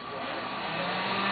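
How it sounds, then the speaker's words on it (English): A vacuum cleaner runs indoors with a steady, even whooshing drone that holds constant throughout, with no talk over it. "Are you vacuuming?"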